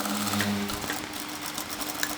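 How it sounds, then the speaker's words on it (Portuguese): A sewing machine runs in a steady continuous whir, stitching fabric around a curve for a heart-shaped dress back, close and alone. "levanta o calcador, gira um pouquinho o tecido e continua a costura para ficar bem redondinho"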